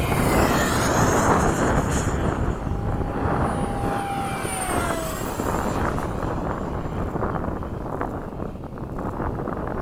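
A Freewing 70mm F-35 RC model jet flies over Oakdale, its steady ducted-fan whine rising and falling in pitch as it passes, over constant wind rush across the microphone. No one speaks.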